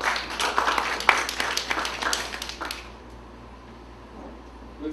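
Applause for staff at an annual general meeting of a chamber of commerce: a room of hands clapping in a dense patter for about three seconds, then fading to quiet room tone.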